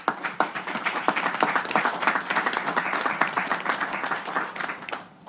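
A crowd applauds at a global UN summit event, dense steady clapping that stays loud for several seconds before fading at the close.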